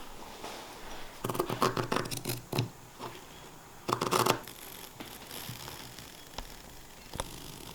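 Scissors snipping through cushion fabric during a Sprinter van bed build, heard as two close bursts of crisp cutting strokes followed by a few isolated snips in a quiet indoor space.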